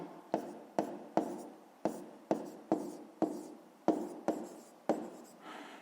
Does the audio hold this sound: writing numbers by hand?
yes